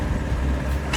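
An HTR-855 tractor fitted with a disc plough, its engine droning loud and close as the throttle is raised and held for steady RPM, a continuous low rumble throughout.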